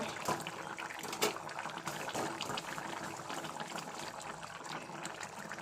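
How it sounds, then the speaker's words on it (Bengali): Raw jackfruit curry bubbles and boils in a pot, a continuous close burble of popping bubbles with small irregular plops, steady and moderately quiet, with no talk. "দেখো টকবক করে ফুটছে আমার ইঁচড়গুলো"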